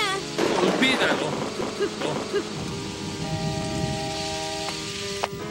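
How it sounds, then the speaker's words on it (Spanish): Heavy rain in a cartoon falls as a steady hiss under speech, with rumbling bursts and a couple of sharp thuds near the end. "Luigi, está lloviendo mucho."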